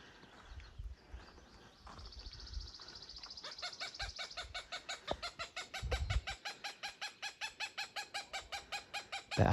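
A female Cooper's hawk calls aggressively near her nest, a rapid series of loud, evenly spaced harsh cackling notes building in a steady rhythm, with a few soft background sounds beforehand.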